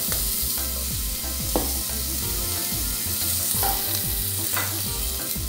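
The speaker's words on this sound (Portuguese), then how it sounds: "Eu não vou acrescentar óleo. Vou fritar na própria gordura deles." Steady crackling sizzle of bacon and calabresa sausage frying in their own fat in a pan without oil, with occasional spatters and faint scraping or stirring, close up and continuous.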